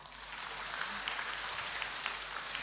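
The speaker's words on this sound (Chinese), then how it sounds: "鼓掌。" A live audience at a 2016 Buddhist talk in Sydney, Australia, breaks into a soft, even patter of clapping, heard faintly and continuously for a few seconds with no speech over it.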